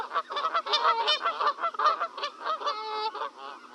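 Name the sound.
wild geese honking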